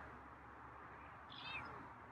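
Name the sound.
cat meowing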